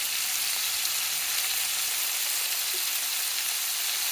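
Shrimp for fajitas frying in a hot pan give off a steady, dense sizzle, loud and unbroken from start to finish with no voices over it.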